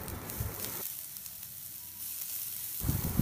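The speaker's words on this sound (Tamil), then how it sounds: "எல்லாத்தையும் நல்லா வதக்கி விடுங்க." Grated carrot, cabbage and potato sauté in a pan, giving a soft crackling sizzle. It is fuller at the start and end, dips quieter in the middle, and no one talks.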